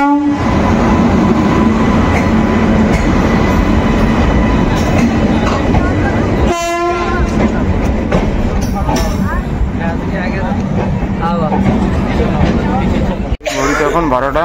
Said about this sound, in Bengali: তো দেখুন ট্রেন ঢুকছে আমাদের।